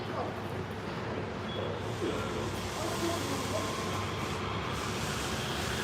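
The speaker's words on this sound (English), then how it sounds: "We're gonna watch our train go by." A Yurikamome driverless train in Tokyo passes close by as a steady, loud hiss and rumble that holds evenly from start to finish.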